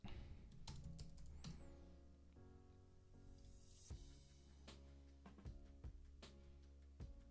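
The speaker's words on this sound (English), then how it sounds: "Also got a new keyboard." Brisk typing on a new computer keyboard during a daytime study livestream, with close, crisp key clicks in irregular bursts over a soft steady background hum.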